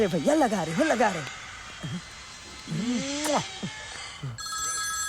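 Telephone ringing in a Hindi film, a warbling electronic ring in repeated bursts, loud and close, with someone talking between rings and a higher tone at the end.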